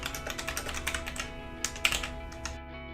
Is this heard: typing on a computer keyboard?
yes